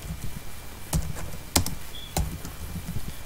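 Sparse keystrokes on a computer keyboard while typing a Java import line, a few distinct clicks spaced about half a second apart over a low room hum.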